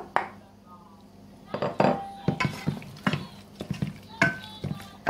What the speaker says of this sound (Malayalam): നന്നായിട്ട് മിക്സ് ചെയ്ത് നമുക്ക് മാരിനേറ്റ് ചെയ്ത് വെക്കാം